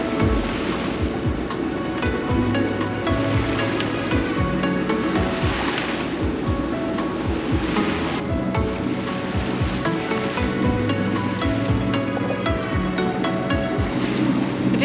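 Sea around a sailing boat off Sicily on a flat, calm day: continuous water wash and lapping against the hull, with occasional thumps and creaks from the boat, steady and close.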